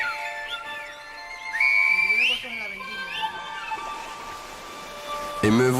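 A sustained, gliding whistle in the style of Silbo, the whistled language, rises and bends in pitch over a steady musical backing, then ends in a brief louder burst.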